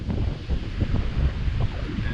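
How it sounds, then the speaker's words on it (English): Ocean surf and gusting wind buffet the microphone on a hiking trail in Hawaii, a continuous loud rumble with no break. "There's the ocean out there."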